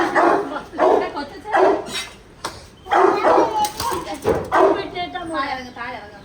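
A dog barks and yips repeatedly nearby while people talk over it.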